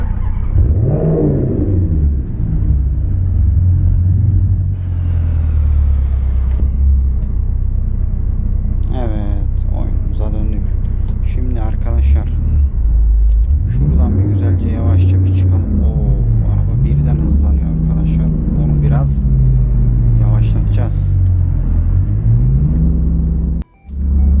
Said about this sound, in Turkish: Arabayı bir çalıştıralım tekrar.